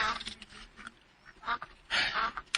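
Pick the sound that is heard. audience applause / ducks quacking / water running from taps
ducks quacking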